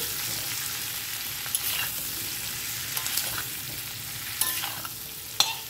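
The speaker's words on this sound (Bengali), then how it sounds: "এর সঙ্গে দিয়ে দেবো একটু নুন আর সামান্য একটু হলুদ দিয়ে আমি ভালো করে ভেজে নেব এটাকে।" Pumpkin and potato pieces fry in a little oil with salt and turmeric, giving a steady close sizzle broken by a few sharp clicks and scrapes from stirring.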